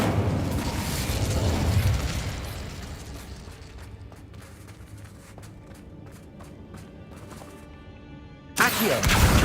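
Fire spells cast in the Hogwarts Legacy video game: a loud whooshing, crackling burst at the start, then a string of sharp pops and ticks over a quieter bed, and another loud burst near the end.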